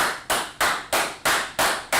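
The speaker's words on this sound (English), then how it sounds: "Clap it up in class." Six or seven crisp, evenly spaced bursts of applause, each a short sharp swell that fades, ring out as a classroom claps together in a quick steady rhythm.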